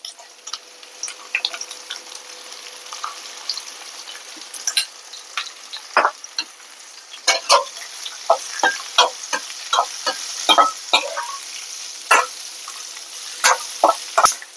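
Round slices of bitter gourd sizzle steadily in a hot pan with mustard seeds and asafoetida, with sharp crackles and pops and intermittent scraping from stirring, close and fairly loud.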